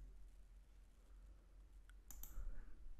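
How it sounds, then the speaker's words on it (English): A computer mouse clicks on a Chromebook, with a couple of quick, close clicks near the end of an otherwise quiet stretch with a low hum. "We need to click here."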